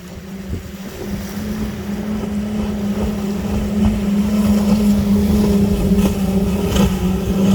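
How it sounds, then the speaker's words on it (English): A motorboat with five outboard engines drones steadily and grows louder as it approaches, its low hum mixed with wind buffeting the microphone, in San Diego. "Oh, we got a boat coming."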